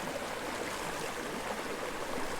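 A tiny creek flows in trout country, giving a steady broadband rush of running water, close and even, with no voices.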